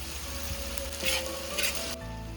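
Chopped tomatoes with salt sizzle steadily in a hot pan for an egg drumstick curry, a continuous close frying hiss with two brief louder bursts as they are stirred, before the sizzle drops away near the end.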